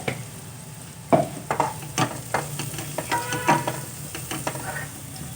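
Onions cook in a pan after chili powder goes in, a soft sizzle broken by a series of sharp scraping and clattering strokes of a spoon stirring, close by and with no speech.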